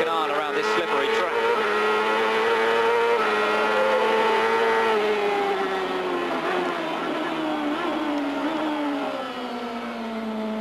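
A 1998 CART race car's engine howls on board around the slippery Houston street circuit, its pitch rising and falling through the gears, loud and close, with a commentator talking over it.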